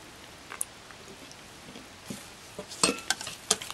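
Melted unsalted butter is stirred into a crepe cake mixture in a bowl, with soft wet swishing and a few sharp clinks of a utensil against the bowl, growing busier toward the end.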